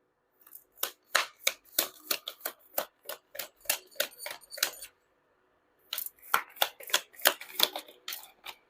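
Tarot cards, awkwardly shaped, are shuffled in quick snapping bursts, a crisp rapid run of flicks, a brief pause, then another flurry, close and fairly quiet.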